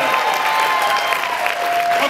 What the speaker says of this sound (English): you've got a lot of applause